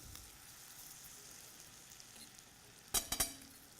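Banana slices coated in sugar and butter sizzle steadily in a pan, a soft continuous frying hiss with a short burst of clinks near the end.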